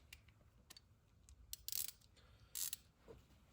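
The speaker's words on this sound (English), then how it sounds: "Okay, I will torque these" A torque wrench tightening the coil pack bolts on a Carbon Cub SS aircraft engine, with a few faint ratcheting ticks and two short bursts of metallic clicking in a quiet setting.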